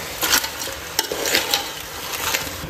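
Crab pieces being stirred and mixed in a pan for a Goan crab sukha, with scraping, clinking spoon strokes and a light sizzle running steadily underneath, close and moderately loud.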